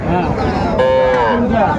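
Cattle moo loudly and close at a livestock market, one drawn-out lowing call rising out of a busy crowd din with voices chattering throughout.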